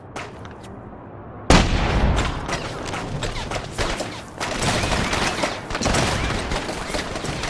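Gunfire in the action video game The Saboteur: a sudden loud burst, then sustained rapid shooting and booming impacts with dense layered reports throughout.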